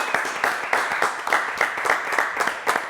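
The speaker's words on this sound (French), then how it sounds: "Et maintenant, on va applaudir Valentin." A studio audience at a French television show applauds Valentin with a brief burst of dense clapping. Hands beat in a fast, overlapping rhythm at moderate loudness, with no speech.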